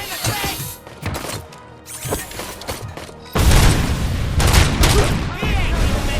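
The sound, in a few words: gunfire from video game RoboCop: Rogue City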